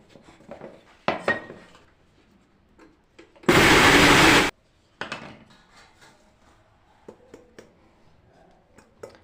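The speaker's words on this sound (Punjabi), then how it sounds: "ਧਨੀਆ ਤੇ ਜੀਰਾ ਇਹਨਾਂ ਨੂੰ ਇਕੱਠੇ ਹੀ ਪੀਸ ਲੈਣਾ ਜੀ" An electric kitchen grinder briefly whirs at full roar, grinding coriander and cumin seeds for homemade garam masala, framed by scattered clinks and knocks of jars and utensils before and after.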